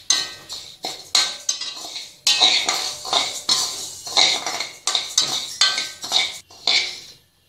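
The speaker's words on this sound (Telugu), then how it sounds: "మినప్పప్పు వేసి రెడ్ కలర్ వచ్చే వరకు వేయించుకోవాలి" Urad dal roasting over a medium flame in a pan, stirred briskly with a metal spoon that scrapes and clinks in a quick, repeated rhythm, close and alone.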